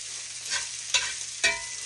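Broccoli and bacon fry in a pan under a steady sizzle, broken by three distinct scraping flips of a metal spatula spaced about half a second apart.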